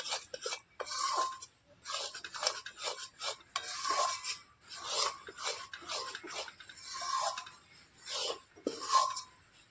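Flour is stirred into boiling jaggery in a pot, making repeated rhythmic scraping and rubbing strokes with a utensil. The strokes come close and fairly quiet, with brief pauses between them.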